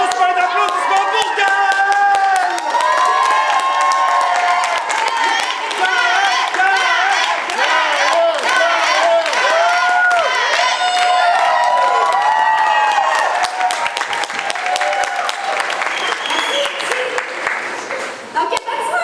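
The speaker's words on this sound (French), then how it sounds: "Une grosse main d'applaudissements" A large crowd at a cosplay masquerade contest claps and cheers loudly and steadily, with whoops and shouted voices mixed in throughout, fading slightly near the end.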